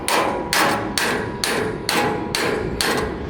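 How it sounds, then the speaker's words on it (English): A hammer strikes a pin on a rail car in a rail yard: seven or eight loud, evenly spaced metallic blows about half a second apart, close and ringing, with no talking. "Oh man, I need my hammer."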